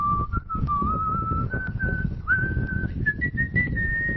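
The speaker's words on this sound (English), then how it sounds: "from whistling while the wind is blowing in the background" A steady whistled melody sliding gently between notes, carried over a rumbling, gusty wind that fills the background.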